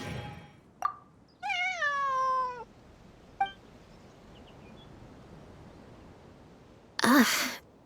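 A cat meows, with a brief chirp, a long wavering drawn-out meow, a short call, then quiet before a sharp loud burst near the end; sounds fairly close with no talking.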